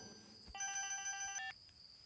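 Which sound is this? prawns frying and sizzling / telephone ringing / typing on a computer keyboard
telephone ringing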